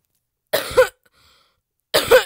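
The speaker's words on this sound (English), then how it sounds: "Oh my, I'm coughing a lot." Two sharp, loud coughs from one person, close up, each a short harsh burst, separated by more than a second of near silence.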